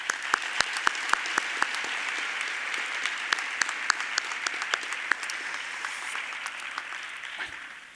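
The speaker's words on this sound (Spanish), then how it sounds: "a la que ruego primero un fuerte aplauso." An audience applauds at a conference session as a speaker is welcomed. It is a dense, steady clapping with a few sharper individual claps standing out, fairly close, slowly easing off toward the end, with no speech over it.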